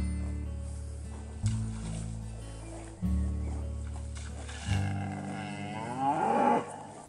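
Cattle low nearby in a riverside pasture on the Narew, deep, drawn-out moos, several calls overlapping against a soft outdoor background.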